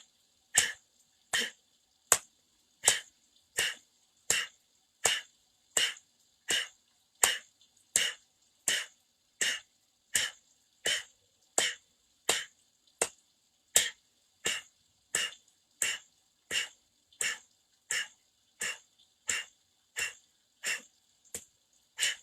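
Sharp single hand claps repeat at a steady pace of roughly one every 0.7 seconds, about thirty in a row, each marking an exhale during a mid-morning yoga breathing practice, close and clear with no talk over them.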